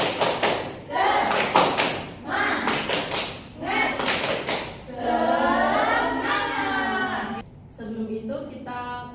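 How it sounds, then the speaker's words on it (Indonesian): A school class performs the rhythmic "tepuk semangat" clapping chant, bursts of patterned claps alternating with chanted voices, followed by a sustained sung or spoken stretch from the children. "Kita tepuk semangat. Oke. Tepuk semangat."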